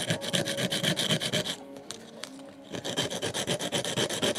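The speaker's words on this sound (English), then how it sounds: "And you could even use a file." A file rasps against a Hornby Dublo model train pickup shoe in quick, even back-and-forth strokes, close and steady, with a short pause in the middle before the rhythmic filing resumes.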